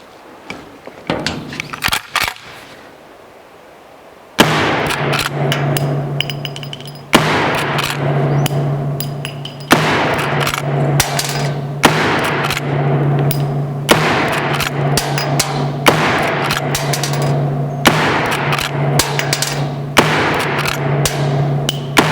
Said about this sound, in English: Let's see what another 10 rounds does to this thing.